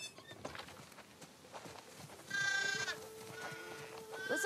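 Sheep bleat in a farm area of the video game The Last of Us Part II, with several wavering calls at moderate distance over quiet ambient rustle and light footsteps.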